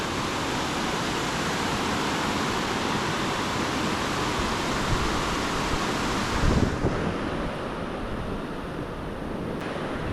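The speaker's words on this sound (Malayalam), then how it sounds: "താഴെ കൂടി റിവർ ഒഴുകുന്നുണ്ട്" Steady broadband rush of a river flowing below, in Poonch, Jammu and Kashmir, continuous and fairly loud, with no voices over it.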